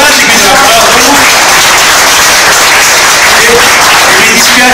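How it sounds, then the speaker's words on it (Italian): An audience at an evening event honoring the poet G. G. Belli breaks into loud, sustained applause, a dense and continuous wash of many hands clapping that fills the room for several seconds. "quindi un applauso a lui"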